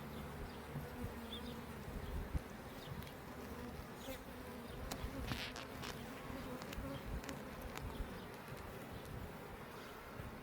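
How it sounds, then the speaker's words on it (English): Honeybees buzzing around an open beehive during an inspection, a dense, continuous hum of many insects close by, with occasional louder passes near the listener. "Bees make me happy."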